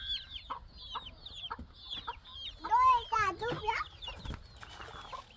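Chicks and chickens clucking and peeping close by, a run of short repeated calls building to a louder burst of clucks in the middle, with faint background noise.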